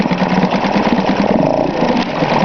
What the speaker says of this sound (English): Pretty responsive, a little 2-stroke. Sure does run nice.